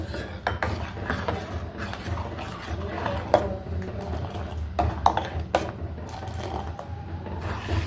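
A spoon clinks and scrapes repeatedly inside a vessel, stirring sugar until it dissolves in warm homemade juice, with irregular close metallic taps over a low background hum.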